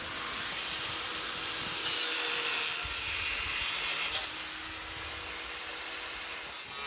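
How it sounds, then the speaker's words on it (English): A grinder works steadily across bonded fiberglass sections outdoors on a breezy morning, giving a continuous high, hissing whine at moderate distance that stays fairly even throughout. "I cut as much as I could off and ground off the additional bonded in sections of the fiberglass"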